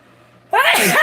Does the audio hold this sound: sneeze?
yes